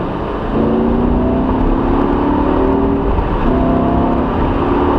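A supercar engine on a track screams at high revs, a loud, steady, close-up whine with rising harmonic tones sweeping upward twice, no voices over it.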